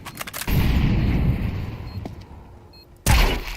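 An incendiary grenade in Counter-Strike 2 bursts with a heavy low boom, followed by a rumbling roar that slowly fades, then a second sharp blast, close and loud with no talking.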